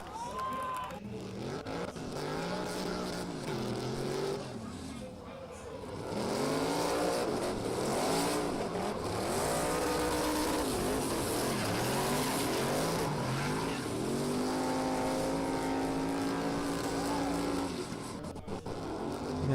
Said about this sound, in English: You can hear him just backing out as he now stands on the accelerator and takes the car to the wall.